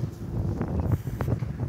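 Strong gusts of wind at a bus stop buffet the microphone, producing a low, rumbling roar with uneven surges and a few brief rustles, close and fairly loud with no speech.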